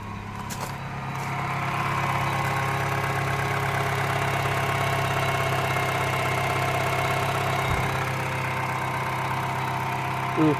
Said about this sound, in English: So now let's try to start the engine again.